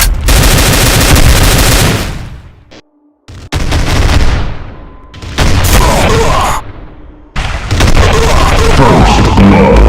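Loud, dense minigun fire and explosive rocket blasts from a Doom mod, with a Cyberdemon among the enemies, roaring in long sustained barrages split by short silences.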